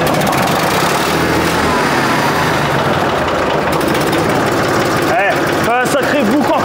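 A SAME Condor 55 tractor, cold after two weeks unused, cranks and runs with a loud, steady diesel rumble that fills the clip, with voices talking briefly near the end.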